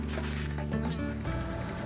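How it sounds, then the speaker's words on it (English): An airbrush sprays out leftover white paint between colours while weathering a model diesel locomotive, giving a few short, close hissing bursts at the start that settle into a steady hiss. "Between colors, you just want to spray out the white and get ready for the next color."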